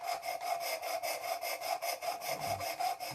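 A knife is drawn repeatedly across a Worksharp precision sharpening system, making a rapid, rhythmic series of close, bright scraping strokes, about four per second, with no voices.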